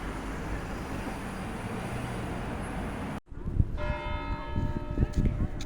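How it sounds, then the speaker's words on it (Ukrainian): A steady roar of traffic cuts out, then the Christuskirche church bells ring with a clear, sustained tone amid street noise, a voice briefly audible. "Оце дзвонить дзвін."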